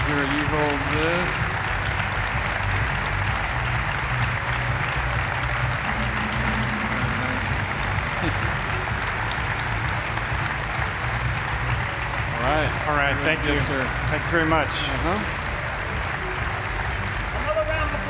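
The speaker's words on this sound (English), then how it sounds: "Go ahead, give him another round of applause." Sustained audience applause fills an award ceremony at a technology conference, steady and dense throughout, with a voice speaking over it near the start and again toward the end.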